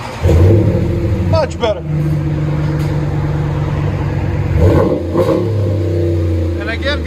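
RAM 1500 pickup with a 5.7L HEMI V8 and aftermarket muffler and tips, resonators kept, revs loudly nearby with a deep throaty rumble, rising and settling between blips, while someone talks over it.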